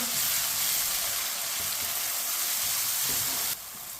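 Chopped tomatoes and green chillies sizzle steadily in a hot pan for an aloo matar curry, a continuous close frying hiss that dips slightly near the end, with no talking.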